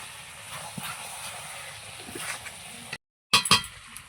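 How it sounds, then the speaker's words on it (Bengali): Meat being stir-fried in a pan over a wood-fired clay stove as it releases its oil: a steady sizzling hiss close by, a brief cut to silence, then a few sharp metallic clinks of a utensil against the pan. "মাংস থেকে তেল ছেড়েছে। এই কষাচ্ছি এখন, কষতে কষতে আস্তে আস্তে তেল বেরোচ্ছে।"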